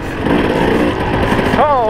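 A motorbike engine drones loudly and close while riding single track trail, then its pitch rises and swoops near the end.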